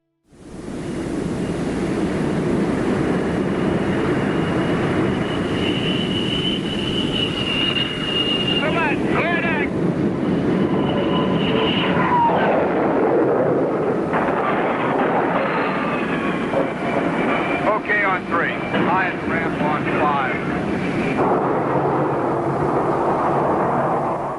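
An F-4E Phantom with slatted wings approaches an aircraft carrier at about 150 miles per hour with landing gear and flaps lowered, giving a loud, steady jet roar with a thin high whine that wavers and fades in places.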